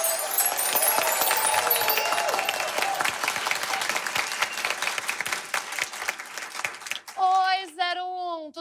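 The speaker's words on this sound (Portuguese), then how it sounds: "Palmas para Dread Hot!" Studio audience applause for a guest on a Brazilian satirical comedy show, dense and loud for about seven seconds, then cutting off as a voice begins speaking.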